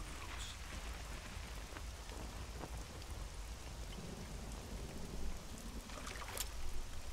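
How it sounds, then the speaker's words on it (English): Steady rain in the video game Metal Gear Solid 3, a dense continuous hiss of falling drops with a low rumble beneath, constant and fairly quiet throughout. "You make it rain."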